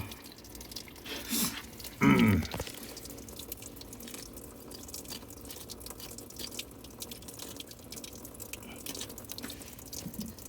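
Hot water trickles and drains steadily from a wake boat engine during winterizing, with no one talking, broken early on by a short, louder gush and splash.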